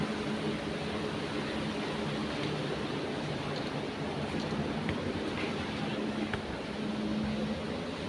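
Sea waves on the Konkan coast near Ganpatipule give a continuous broad wash of surf that stays steady and fairly loud throughout, with no talk.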